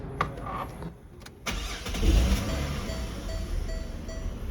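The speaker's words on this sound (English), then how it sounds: "Let's go ahead and turn the car on." A Ford Falcon FG MK1 engine cranks after a few clicks and catches, then settles into a steady idle that stays close and fairly quiet.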